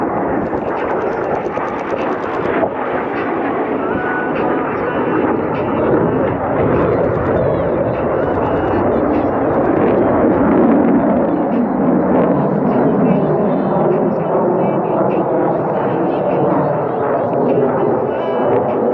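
The aerobatic plane Rebel roars steadily overhead while flying a half Cuban eight at an airshow, a loud, continuous engine drone with a slowly shifting pitch that stays heavy for the whole stretch.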